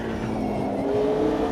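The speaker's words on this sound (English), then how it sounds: "I'm currently driving this car with no assist on, and this McLaren feels really good." McLaren race car in Automobilista 2 during a DTM session, engine droning at high, steady revs with a constant loud tone and no talking.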